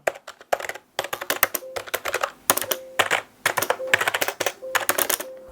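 Rapid, uneven keystrokes on a soft membrane gaming keyboard, a Rampage KB-R99 X-Coral, clattering in bursts with brief pauses, close and fairly loud, no voices.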